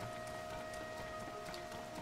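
Rain falling in the video game Zelda Tears of the Kingdom, a faint, steady hiss of patter that runs evenly throughout over a low, constant tonal background.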